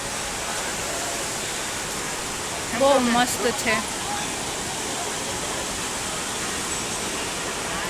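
Cold water pouring down at a waterfall near Mussoorie, by an old temple, makes a constant broadband rush heard up close, with a person speaking briefly partway through.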